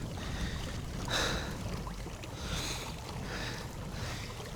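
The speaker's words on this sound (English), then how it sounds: "This wind is making it feel cooler than it really should be" Steady wind buffets the microphone while fishing from a kayak on a Minnesota lake in spring, a constant broadband rush with gentle swells and no voices.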